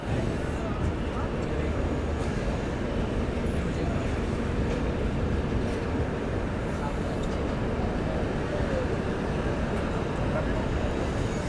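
Night ambience fills New Jalpaiguri railway station around 11 pm: a dense, steady roar of rail and crowd noise runs on without a break, with faint thin high tones drifting above it.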